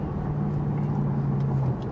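The engine of a 2014 Ford Mustang Shelby GT500 heard from inside the car, a steady, close, low drone that holds an even pitch for two seconds.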